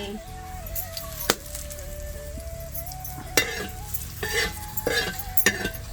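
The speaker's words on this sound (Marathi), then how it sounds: "मिरच्या भाजून घेतल्या आता काढून घ्यायच्या" Green chillies dry-roasting in a pan for a traditional Marathwada curry: steady stirring scrapes and soft sizzling with a few sharp utensil knocks against the pan, close and moderately loud.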